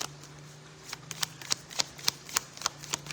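Cards shuffled for a tarot-style reading give a close, soft series of crisp riffling snaps at a fairly even beat, moderately quiet, with no talking over them.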